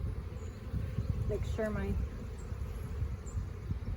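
Honey bees hum in a low, steady buzz close by while a package of bees is installed into a hive, with a person speaking briefly over the droning swarm.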